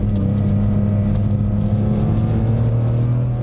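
A loud BMW M3 E46 S54 inline-six engine with six individual throttle bodies revs and drones steadily, a rich, continuous mechanical roar close by with no pauses.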